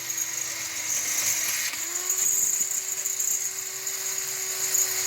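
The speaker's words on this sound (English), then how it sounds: "Double drilling this one" A drill whirs at a high, steady pitch as it bores through two stacked metal pieces, its tone dipping briefly under load before settling, moderately close.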